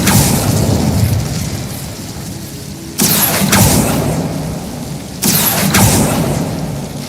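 Incendio fire spell cast in Hogwarts Legacy, two sharp whooshing bursts a couple of seconds apart, each flaring loudly then fading over a steady rumbling game backdrop.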